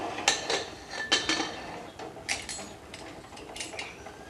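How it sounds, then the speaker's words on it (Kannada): Metallic clanks and clinks of a pressure cooker lid being set on and locked in a kitchen, several sharp separate knocks of metal on metal, close and fairly loud. "ಈಗ ಮ್ಯಾಲಿನ ಮುಚ್ಚಳ ಮುಚ್ಚೋಣ ಇದಕ್ಕೆ"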